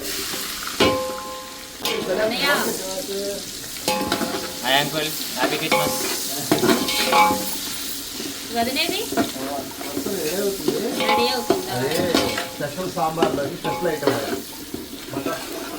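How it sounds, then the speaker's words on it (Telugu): Onions and green chillies fry and sizzle in a pan while being stirred, a steady crackling hiss broken by repeated scraping strokes throughout, close and fairly loud. "ఆనియన్స్ పచ్చిమిర్చి రెండు కట్ చేసి పెట్టుకున్నాను ఇప్పుడు ఇవి కూడా వేసేసుకుందాం"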